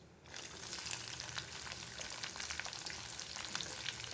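Sliced small onions (shallots) are dropped into a hot pan with dried red chillies and fry with a loud, continuous close sizzle and crackle, with light stirring scrapes throughout and no voices.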